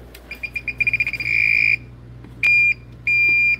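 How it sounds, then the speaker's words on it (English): A Klein or Ideal circuit tracer gives a string of quick rising pulses that merge into a steady tone, then two more sustained beeps after short gaps, loud and close. "You're gonna get a couple of beeps here."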